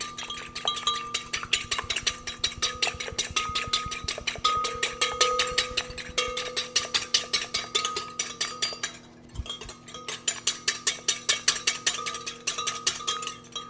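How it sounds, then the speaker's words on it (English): Egg whites for a lemon meringue pie being beaten by hand with a whisk after cream of tartar goes in, giving a fast, steady clinking rhythm of metal against a bowl that pauses briefly near the end, then resumes. "I am going to beat it by hand a minute just so that I can get this cream of tartar mixed in"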